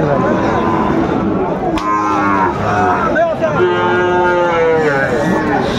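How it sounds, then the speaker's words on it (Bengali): A Sahiwal bull moos at a busy cattle market in Dhaka, giving long, loud, close bellows that rise and fall over a constant crowd murmur, with other cattle calling nearby. "শাহিওয়ালার ষাঁড় আমরা দেখছিলাম এখানে"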